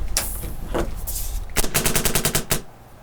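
A paintball gun fed by a remote coil air line fires close and loud, first a few spaced shots, then a rapid string of about a dozen pops.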